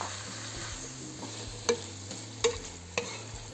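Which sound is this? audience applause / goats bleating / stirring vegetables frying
stirring vegetables frying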